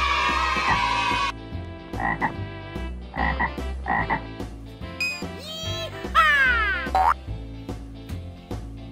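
A green toy frog gives loud electronic croaks mixed with springy boing effects and bright chirping tones, all over a steady toy-music backing.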